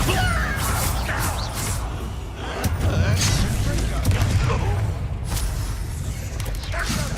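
A Bombarda explosion spell going off in the video game Hogwarts Legacy, a loud booming blast within a dense, continuous stretch of game combat noise, with several heavy impacts close together.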